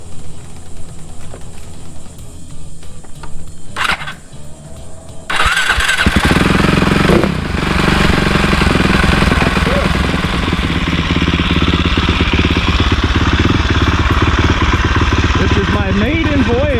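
A Cannondale dirt bike with a newly installed motor cranks over, fires up and settles into a loud, continuous rough idle with throttle blips, close by for most of the stretch.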